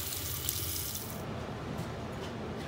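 Water runs steadily from a sink faucet fitted with an aerator as a water heater is flushed of grit, a continuous close hiss with no voices.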